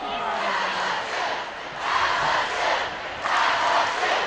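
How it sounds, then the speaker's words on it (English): The visiting crowd at a high school varsity football game roars and cheers from the stands, in swelling waves that rise and fall, fairly close and loud, with a voice talking through it. "And you hear the visiting crowd riled up."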